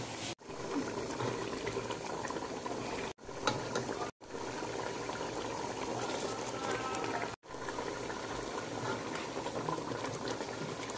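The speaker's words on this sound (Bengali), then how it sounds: "এখন আমি অপেক্ষা করব মাংসটা সিদ্ধ পর্যন্ত" Beef boils in water in a pot while being cooked for tehari, giving a steady, close bubbling that runs almost the whole time, broken only by a few brief cuts.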